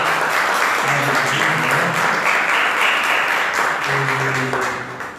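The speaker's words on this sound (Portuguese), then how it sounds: "Vou dar mais uma salva de palmas para" A church congregation gives sustained, dense applause, a loud continuous wash of clapping that holds steady before easing slightly at the end, with faint voices underneath.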